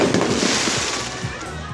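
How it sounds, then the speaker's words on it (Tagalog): Fireworks crackle and pop in a dense, continuous wash over a broad hiss at an outdoor celebration, loud and steady throughout with faint voices mixed in. "hindi pa rin tapos yung fireworks"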